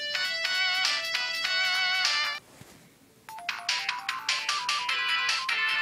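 The ring-collect chime from the Sonic 1 video game, triggered by a debug cheat on an iPod, plays as a bright run of bell-like electronic tones. A short gap follows, then a faster burst of repeated chimes, with no talking.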